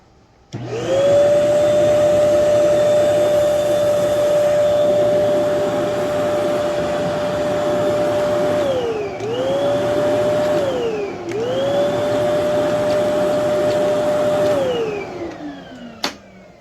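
A Kenmore Elite vacuum cleaner runs loud and close with a steady motor whine that briefly sags and recovers twice before winding down at the end.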